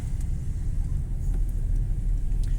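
A car pulling away from an intersection near a Netto shop in Dąbrowa Górnicza during a driving lesson, a close, steady low engine rumble with road noise inside the cabin.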